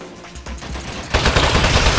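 Rapid turret gunfire in the video game Aperture Desk Job, a dense rattle of close shots that jumps louder and harsher partway through and keeps firing to the end, with no talking.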